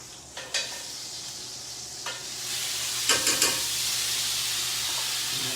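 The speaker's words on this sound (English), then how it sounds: "now same pan, a little bit of garlic" Garlic added to a frying pan sizzles with a steady broadband hiss that swells and holds, with a few sharp clinks and pops near the start and a brief cluster of clicks midway.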